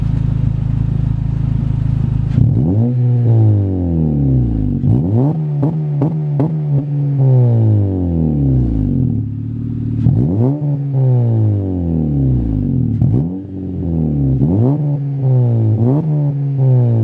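A 9th-generation Honda Civic Si engine revs up repeatedly, each rise in pitch followed by a drop, in a steady cycle of several revs. It sounds loud and close up, with no talking.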